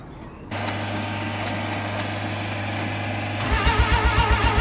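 A backyard-built rotary car engine fires up after a brief crank, settling into a steady, loud idle with a rough, pulsing lope toward the end, heard up close outdoors.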